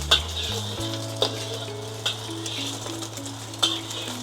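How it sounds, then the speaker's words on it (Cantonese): Beaten eggs hiss softly in a hot wok with warm oil as a spatula stirs and pushes them, with several sharp scraping clicks spaced through a low, steady sizzle. "將啲蛋倒落去， 不停咁樣攪佢"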